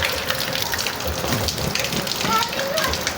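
Rain falls steadily as a broad, continuous wash while children play and bathe in it, with voices and occasional brief tones over the hiss.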